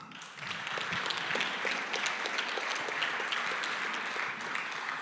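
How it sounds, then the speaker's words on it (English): Audience applause at an event's closing remarks with catered food, a dense, steady wash of many hands clapping for the full length, fairly even in loudness with no talk over it. "and a big applause"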